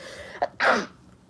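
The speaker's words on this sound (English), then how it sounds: "She saw me sneeze." A single sharp sneeze, a quick intake followed by a loud burst, close up in a quiet room.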